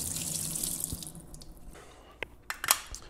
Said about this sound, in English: Put the colander on top and dump.